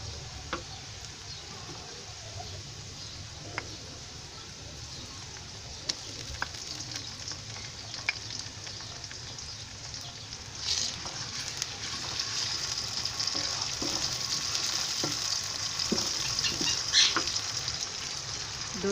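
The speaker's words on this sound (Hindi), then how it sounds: "प्याज और कलवंजी को भूनते हुए हमें 2 मिनट हो गए।" Onions and nigella seeds fry in ghee, a quiet, continuous sizzle with scattered small ticks and pops that swells slightly louder toward the end, with no voices.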